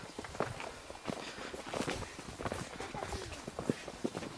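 A horse walks past through a low beech wood, its hooves thudding and shuffling irregularly on the forest floor amid rustling, close and fairly soft throughout.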